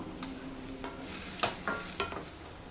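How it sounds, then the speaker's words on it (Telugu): After the lid comes off, a spoon stirs bottle gourd curry in a pan, a few distinct scraping strokes and clinks over a quiet, gentle sizzle. "ఇక్కడ మూత తీస్తున్నాను. ఒకసారి కలుపుకుందాం."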